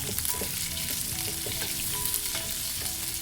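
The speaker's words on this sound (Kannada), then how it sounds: "ಅರ್ಧ ಈರುಳ್ಳಿನ ತಗೊಂಡಿದ್ದೀನಿ ಇಷ್ಟನ್ನು ಸ್ವಲ್ಪ ಫ್ರೈ ಮಾಡ್ಕೊಳ್ಳೋಣ" Cumin and chopped onion frying in oil in a pan, a dense continuous sizzle with light stirring scrapes throughout, close and steady.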